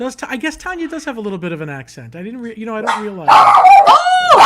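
A dog barks because someone is at the door, with a few sharp loud barks and yips near the end after people talk over a call.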